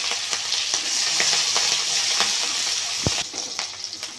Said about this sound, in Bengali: আদাটা একটু ভালো করে ভেজে নিয়েছি